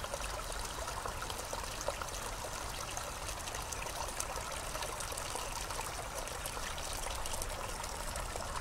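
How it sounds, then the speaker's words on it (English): A small stream trickles and gurgles steadily in a quiet outdoor winter setting, a continuous close, even wash of running water with no voices. "The sound of the water"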